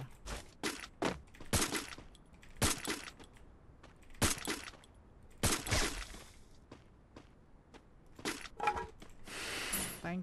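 MP40 submachine gun fire in the Free Fire mobile battle game, heard as short separate bursts of sharp cracks spaced across the clip, some louder and closer than others, with no talk over them.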